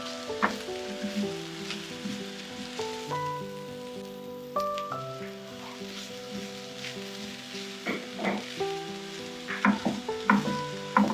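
Coconut masala fries in a pan with a soft, continuous sizzle, broken by frequent clinks and scrapes of a spoon stirring against the metal, close and without any talk.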